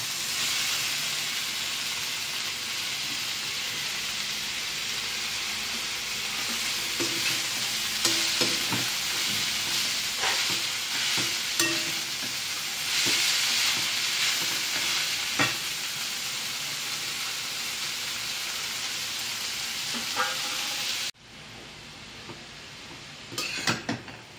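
Cabbage frying in a pan of cooked-down spice paste, a steady loud sizzle and hiss with repeated scraping stirs throughout, dropping abruptly to a quieter simmer near the end.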